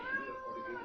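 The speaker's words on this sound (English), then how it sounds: "This is the cat." A female cat that is afraid of people meows once, close and clear, a short tonal call with no talk over it, in a home garage during an oil change on a 1980 Honda CM200T motorcycle.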